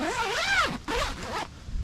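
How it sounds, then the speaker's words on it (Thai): A zipper on the door of an Ogawa Type 52R tent is pulled closed in two quick rasping strokes, close and crisp, with no talk over it. "ตัวประตูเนี้ย สามารถรูดซิปปิด ลงมาได้เลย"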